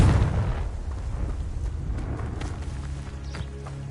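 A Confringo blasting spell goes off in Hogwarts Legacy, a loud low boom at the start that rumbles and decays into a lingering, muffled roar over the following seconds.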